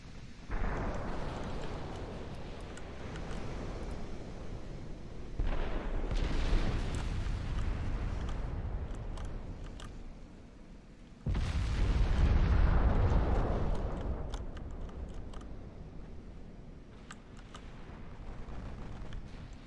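Heavy naval secondary battery gunfire in the Ultimate Admiral: Dreadnoughts naval battle game, booming in repeated loud bursts with rumbling tails, two especially strong salvos standing out over continuous battle noise.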